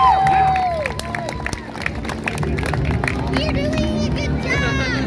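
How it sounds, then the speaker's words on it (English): A small street crowd at a downtown juggling show in Belleville at dusk claps and cheers, with scattered claps, whoops and chatter mixing with a whistle and outdoor noise. "I think you deserve a really big round of applause"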